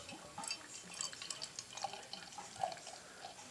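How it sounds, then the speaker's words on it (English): A very dark beer, a Mikkeller Beer Geek Brunch Weasel or black IPA, poured into a Brewdog Teku glass, with faint fizzing and soft liquid trickles and drips, quiet and close. "We'll pour it into a Teku glass by Brewdog."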